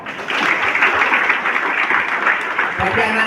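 Clapping from a crowd at a Monday school flag ceremony in Indonesia, a short burst of applause that tapers off toward the end.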